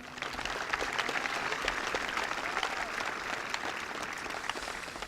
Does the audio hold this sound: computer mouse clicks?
no